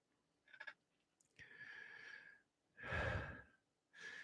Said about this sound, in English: See my dog down there having a good snore.